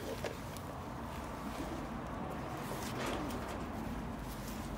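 UK golden pigeons coo softly in low, repeated calls over a steady background hum, with no clear talking.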